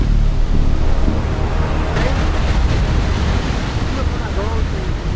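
A waterfall roars in a loud, unbroken wash of rushing water, with wind buffeting the microphone and the roar holding steady throughout.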